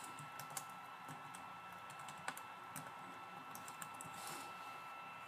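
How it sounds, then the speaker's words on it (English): Quiet, steady clicking of keys on a computer keyboard as a command is typed into Minecraft Pocket Edition, with light irregular taps over a low background hum. "type in kill and type in their name"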